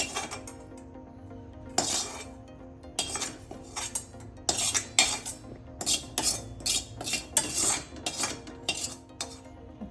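Chopped onion and tomato tipped into ground masala, followed by a utensil repeatedly clinking and scraping against the vessel in quick, close, uneven strokes, with no voices.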